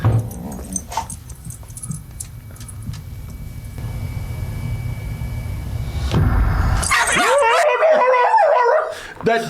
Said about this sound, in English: It's a dog, man.